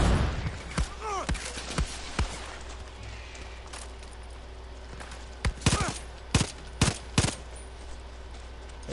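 Scattered gunshots ring out in the Far Cry 6 game, with a few early single cracks and then a tight cluster of sharp reports later on, each brief and punchy against a steady low background hum.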